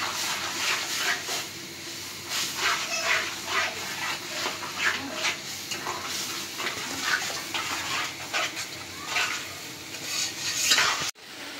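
Spices with salt and ginger-garlic paste fry in a pan for mustard hilsa with prawns and water lily, cooked outdoors village-style, giving a steady close sizzle with stirring scrapes and a dog barking now and then.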